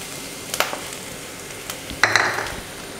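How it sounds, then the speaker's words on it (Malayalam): Crushed cumin and pepper being stirred into Kerala rasam in a pot: a few light metallic clinks and scrapes of a spoon, one near the start and a cluster later, over a quiet background. "ഒന്ന് ജസ്റ്റ് ഒന്ന് മിക്സ് ചെയ്ത് കൊടുക്കുക"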